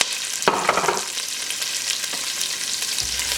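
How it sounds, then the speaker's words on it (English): Sliced onions sauteing in oil in a pan over medium flame for minced meat khichdi khatta, a steady close sizzle with a louder burst of stirring early on and a low knock near the end, no voices. "I'll just saute this for less than 20 seconds, and I'll add in my sliced onions"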